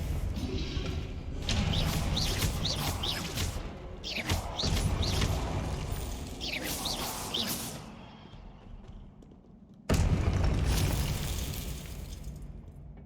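Confringo spell explosions during a Hogwarts Legacy video game boss fight, heard as loud crashing, shattering bursts with swooping magical whooshes over a dense battle din, then a brief lull and a sudden renewed blast.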